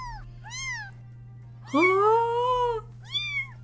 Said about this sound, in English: Why are you holding a box of kittens